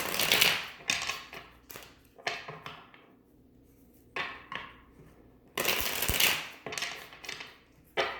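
Quick bursts of riffling and slapping tarot cards, several shuffles separated by short pauses, close and crisp with no talking.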